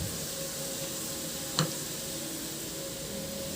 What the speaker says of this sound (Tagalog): saka natin dyan igisa yung bawang hanggang sa mag-brown lang yung bawang